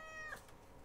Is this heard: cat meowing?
yes